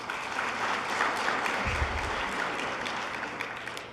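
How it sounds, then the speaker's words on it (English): Conference audience applauding at a network operators' meeting, a steady broad wash of clapping that carries through the whole stretch at moderate level with no voices over it. "If I could get a round of applause."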